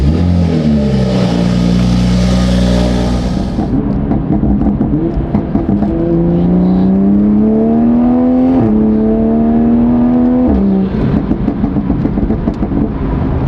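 Toyota Supra driving with its exhaust valves open, the engine loud and close as it revs up through several gears, each climb in pitch cut by a brief drop at the shift.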